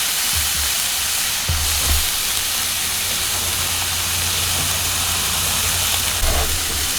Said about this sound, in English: Get the flat top or pan nice and hot, throw some cheese down, get it frying out to have some burnt cheese